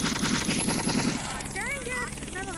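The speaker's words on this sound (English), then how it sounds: "Hold on, guys, I'm gonna send a helicopter to your way." Helicopter arriving in a video game gives a loud, steady rotor and engine roar with a chopping pulse early on, overlaid by game effects and speech.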